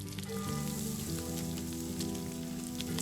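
Shallots sautéing gently in a pan with mushrooms nearby, a steady soft sizzle and crackle that holds at an even level throughout, with a low hum underneath and no voices.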